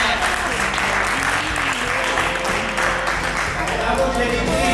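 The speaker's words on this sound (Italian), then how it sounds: "L'applauso forte." Loud, sustained applause from an audience at a reception hall, a dense steady clatter of clapping filling the whole stretch without pause while music plays underneath.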